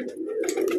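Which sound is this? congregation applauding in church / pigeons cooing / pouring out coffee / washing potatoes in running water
pigeons cooing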